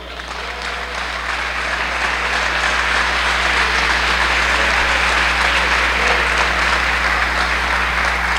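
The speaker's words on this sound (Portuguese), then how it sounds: "Aplauda ao Senhor." A church congregation at a worship service applauds, with dense sustained clapping that builds and stays loud throughout over a steady low hum.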